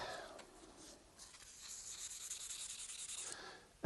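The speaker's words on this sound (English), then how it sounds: "And 600 grit wet and dry sandpaper." Fine 600 grit wet and dry sandpaper rubs rust off an oiled steel cabinet scraper in a workshop. Soft, quiet back-and-forth scratching strokes run steadily, ending with a brief louder knock.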